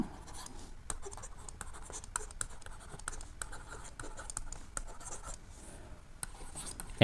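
During a math lesson on sets, a pen writes in quick, scratchy strokes, faint and close, in short bursts with brief pauses between them.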